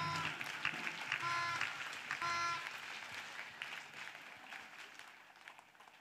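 A congregation applauding at a prayer service, a dense steady wash of many hands clapping together, loud at first and gradually fading, with voices and singing tones mixed in.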